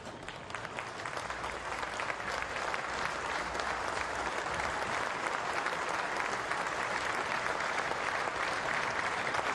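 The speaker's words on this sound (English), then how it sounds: "please stand and to honour Vesty with a moment's applause" A stadium crowd stands and applauds as a pre-match tribute before an A-League football game between Perth Glory and Melbourne Victory, a dense, sustained roar of clapping that stays loud and even throughout with no talking.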